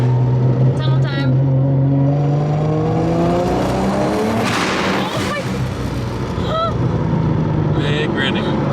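A Barra-engined Mustang GT350 accelerates hard through a tunnel, its loud exhaust climbing steadily in pitch with echoing reverberation, then dropping away before another rising burst near the end; voices shout faintly over it.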